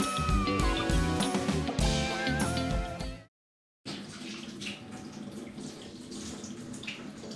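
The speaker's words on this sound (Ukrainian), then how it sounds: "поки що вода тече тільки звідси а не звідси" Water runs from a tap on a faulty fixture that is under repair, a steady gushing flow with ringing, resonant tones that cuts out for a brief silence midway and then resumes.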